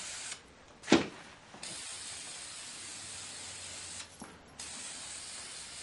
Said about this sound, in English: I take a polyurethane spray, and I just spray it.